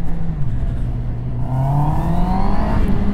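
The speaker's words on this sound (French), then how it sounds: "Petit 4 pattes, ça fait toujours un petit peu une petite sonorité qu'on apprécie." A QJMotor SRK 800 roadster's four-cylinder engine revving, loud and close, its pitch rising and falling smoothly as the throttle climbs, dips and builds again.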